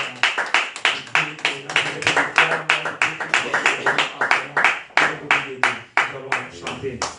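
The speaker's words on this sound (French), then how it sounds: "On acclame très fort." A church congregation claps steadily during a worship service, the rhythm sharp and unbroken, while voices sing and call out over the clapping.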